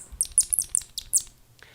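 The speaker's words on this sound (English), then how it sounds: "This is the sound of a happy rat." A happy rat gives a run of about six high, sharp squeaks in quick succession, fairly close and clear, with no talking.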